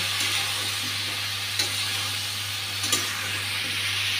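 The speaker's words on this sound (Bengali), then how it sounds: "এখন মশলাটা ভালো করে সাঁতলিয়ে নেব।" Spices such as coriander powder being fried with vegetables and paneer in a pan for a Bengali mixed-vegetable curry, a steady close sizzle with a couple of brief stirring scrapes.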